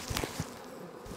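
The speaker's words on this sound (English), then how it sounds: "these bees are very defensive today" Defensive honeybees buzz around an opened hive in an outdoor bee yard, a dense close hum with a few sharper passes near the start, steady throughout with no voices.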